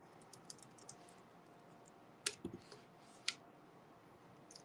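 Scattered keystrokes on a computer keyboard, quiet and sparse with a few sharper clicks standing out against a faint background hum.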